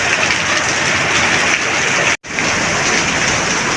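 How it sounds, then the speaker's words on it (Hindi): Heavy rain with strong wind in Karachi, a loud, steady broadband roar that fills the whole stretch, broken only by a very brief cut-out midway. "वो तेज़ बारिश हो रही है।"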